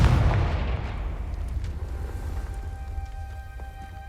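A Confringo blasting spell in Hogwarts Legacy: one heavy boom at the start that decays into a long rumbling tail, with faint crackles and a thin lingering tone as it fades.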